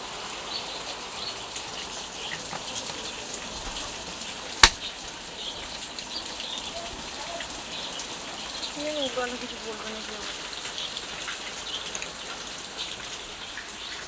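A soft, continuous hiss of falling rain fills the background, with a sharp click partway through and faint chirps and murmuring near the end.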